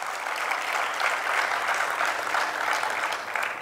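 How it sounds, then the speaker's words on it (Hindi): Dense, steady applause from a large audience at a Jain religious discourse in Chhatrapati Nagar, Indore, a continuous wash of many hands clapping at even loudness with no voices over it. "उस सौभाग्यशाली के लिए एक बार अच्छी ताली बजा दो।"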